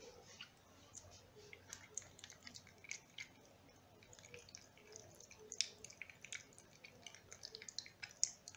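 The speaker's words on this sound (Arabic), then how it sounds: "نخلط المكونات جيدا." A homemade skin cream is stirred and mixed in a bowl, giving faint, soft squelching and irregular little clicks and taps that continue without pause and with no talking.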